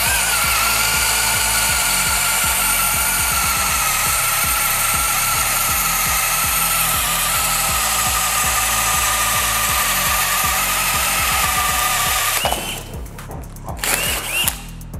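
DeWalt DCD996 cordless impact drill running in gear 1 at maximum torque: a loud, close, continuous high-pitched motor whine with a rapid pulsing hammer rattle, lasting about twelve seconds before cutting off and sputtering briefly in short bursts.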